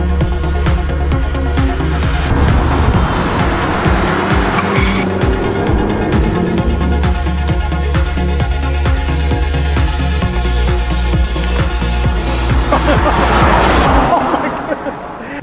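A car engine roars loudly throughout, with tire squeals and revving, while people talk and cheer over it.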